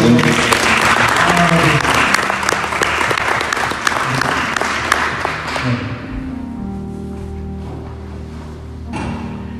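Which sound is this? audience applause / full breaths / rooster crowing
audience applause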